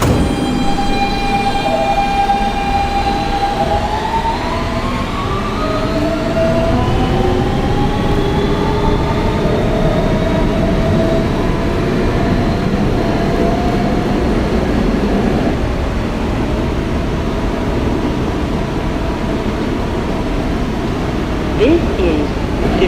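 A Kawasaki R160B-2 Siemens R local subway train rides through New York between stops, filling the car with a loud, steady rumble and rising, falling motor whine that carries on for the whole stretch.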